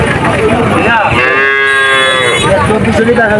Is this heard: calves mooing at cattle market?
yes